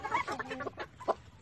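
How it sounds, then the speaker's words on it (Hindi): Aseel rooster on a farm giving a quick series of soft, near clucks, about five short calls in a second and a half against quiet background. "मुर्गा भी यहीं आ गया बड़ा"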